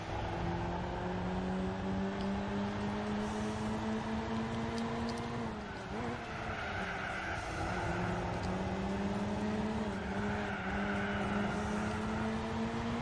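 Lotus classic race car in Gran Turismo 4, a one-make Lotus Classics race: a steady, loud engine drone holds throughout, dipping briefly midway as if shifting or lifting before pulling again.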